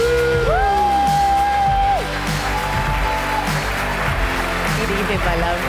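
A loud award show audience at the Reeperbahn Festival applauds and cheers with whoops and yells, sustained throughout under music, while a voice carries over the crowd noise.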